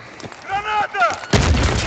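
Grenade explosion in the video game Battlefield 3: a sudden loud, booming blast with a sustained rumbling tail, following a brief raised voice.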